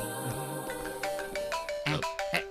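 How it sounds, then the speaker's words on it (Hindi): A bright electronic ringtone melody plays in repeating tonal bursts, fairly loud and close, with no talking over it. "ये डायमंड रवि अभी क्यों फोन कर रहा है?"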